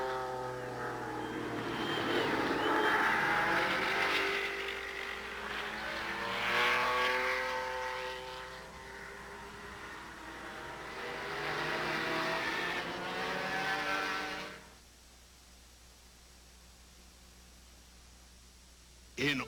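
Race car engines roar and rev, including Quaker State's 11,000 RPM Porsche-powered Indy car, loud and sustained with rising and falling pitch for about fourteen seconds before cutting to near silence.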